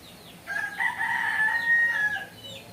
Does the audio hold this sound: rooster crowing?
yes